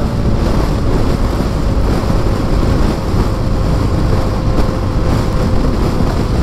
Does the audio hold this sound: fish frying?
no